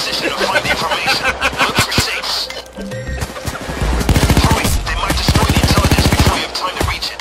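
Gunfire in the video game Payday 2, with loud bursts of rapid automatic shots and fast rattling volleys that intensify midway, under overlapping voices talking.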